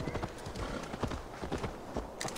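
Horse hooves in Assassin's Creed Valhalla clop in a quick, steady rhythm, fairly close and moderately quiet, with no talking.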